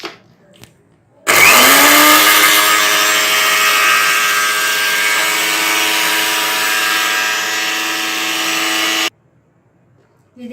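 An electric grinder pulverises tikka masala spice mix with a loud, steady whirring drone that starts abruptly, runs about eight seconds without a break and then cuts off.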